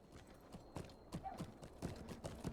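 Horse mount's hooves clip-clop in Lord of the Rings Online, a steady run of soft, even thuds at moderate level over a faint ambient game background.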